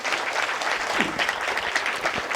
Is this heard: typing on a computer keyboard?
no